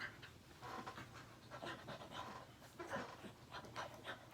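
A dog pants quickly and rhythmically close by, faint breathy bursts repeating in an indoor room with no talking.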